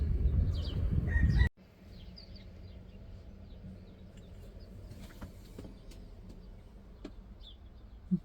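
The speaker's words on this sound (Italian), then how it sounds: "Ogni tanto c'è i polli qua che si fanno sentire." Chickens clucking faintly in the distance over a low outdoor hum in the Italian countryside, after a brief loud burst at the start, with occasional sharper bird calls and a rooster crowing.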